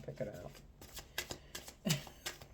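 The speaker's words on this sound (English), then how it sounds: "Let me just shuffle them." A deck of tarot cards being shuffled by hand, a quick series of crisp riffling flutters and taps, close and quiet, with someone speaking softly between them.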